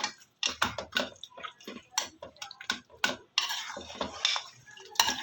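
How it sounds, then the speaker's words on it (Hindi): Cooked mutton korma being moved into a kadai with a metal spoon, a close series of irregular clinks, scrapes and knocks against the pan, with no talk. "मैंने इसको कढ़ाई में शिफ्ट कर लिया।"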